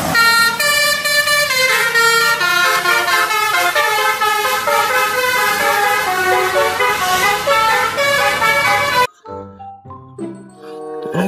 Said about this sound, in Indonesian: Kali ini ada bus Sugeng